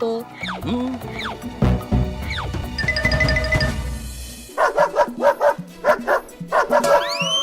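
Cartoon character's voice imitating a dog, giving a quick series of loud, yappy barks after some earlier cartoon noises and effects.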